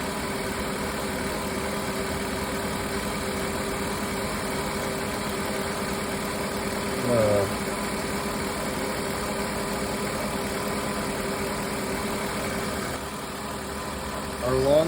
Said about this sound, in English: It's starting to misfire now though.